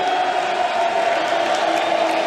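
Pro wrestling arena crowd shouting and cheering during a match with no referee present, a loud continuous roar of many voices with scattered whoops and yells.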